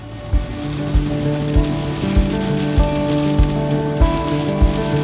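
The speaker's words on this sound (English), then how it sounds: "Unfortunately, the rain did not let up" Steady rain falls outdoors in Colorado during fall, a dense, even hiss of drops on surfaces, with regular low thumps repeating about every half second under a faint steady hum.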